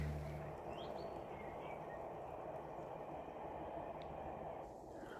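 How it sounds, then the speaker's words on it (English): A train passes in the distance beside a riverside footpath meadow near Abingdon, a steady low rumble running under light wind, with brief bird chirps above it. "I can hear a train coming."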